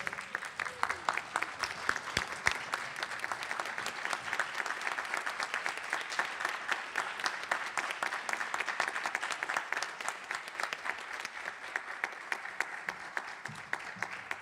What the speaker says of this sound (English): How about one more round of applause for all of our retirees?